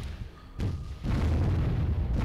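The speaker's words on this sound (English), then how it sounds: "And you bombards are shooting quite well." Bombard artillery units in the Warzone 2100 strategy game fire two heavy booming shots about half a second apart. A dense rumbling din carries on after them.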